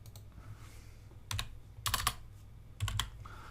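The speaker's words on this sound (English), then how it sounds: "just keep the Control pressed down and press C" Computer keys click in a few short bursts, close and crisp, as a Control+C copy and paste shortcut is pressed, with quiet pauses between the taps.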